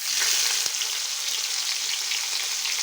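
Chopped onions hitting hot oil with dried chillies and cumin seeds, giving a loud, steady, close hiss of frying with one brief knock early on.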